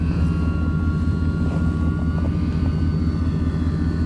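A scratch-built 60-inch model snow plane flying after takeoff, its propeller engine giving a steady buzzing drone with a faint whine, constant and moderately close throughout.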